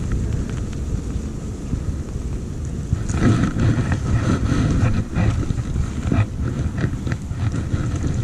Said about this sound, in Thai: ลมมันพัดนะครับ ไม่นิ่งเท่าไหร่